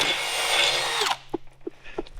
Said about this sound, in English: I got to drill a hole right there in the center of both these brackets